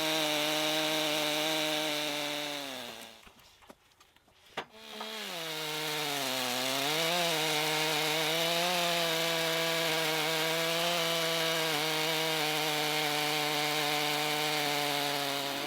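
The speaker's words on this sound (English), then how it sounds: "These logo saw mills make chainsaw milling feel like bandsaw milling." A chainsaw fitted to a log mill roars steadily as it cuts lengthwise through a log, with a brief drop in engine pitch midway before the loud whine resumes.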